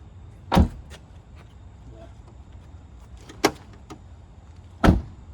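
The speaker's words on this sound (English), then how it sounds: "Close the doors. They just catch automatically." Three solid thuds of a micro-campervan's self-latching doors shutting, spaced a few seconds apart, with quiet between them and a faint background hum.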